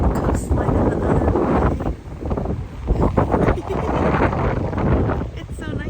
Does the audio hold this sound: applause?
no